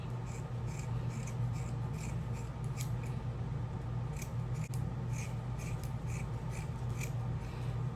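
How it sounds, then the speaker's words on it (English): Scissors cutting through knotless braids, giving a series of quiet, regular snips over a low steady background hum, close and without talk. "So I'm gonna cut here."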